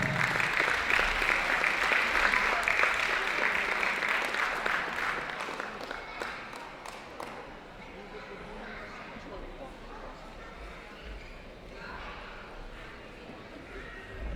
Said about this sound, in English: Please give another round of applause for your Mayor of the Georges River Council.